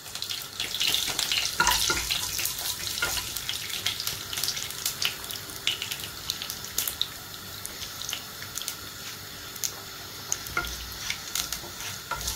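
Fennel, fenugreek and mustard seeds fry in a couple of teaspoons of hot oil for a Sri Lankan tin fish curry, giving a close, steady crackling sizzle with scattered sharp pops.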